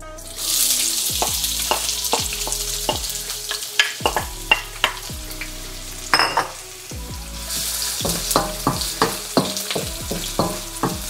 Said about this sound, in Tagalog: Kapag mainit na ang mantika, maggisa lang kayo ng sibuyas.